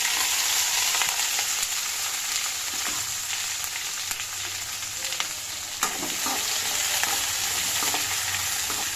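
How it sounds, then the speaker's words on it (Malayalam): Chopped green chilies fry in coconut oil with a steady, close sizzle and crackle, broken by occasional clinks and stirring scrapes of a spoon in the pan. "പച്ചമുളക് ഈ എണ്ണടകത്ത് കിടന്ന് നല്ലപോലെ പച്ചമുളക് ഒന്ന് മൂത്ത് വന്നു"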